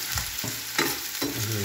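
Garlic and onion frying in a pan, a steady close sizzle with a few stirring scrapes at regular intervals, no voices over it.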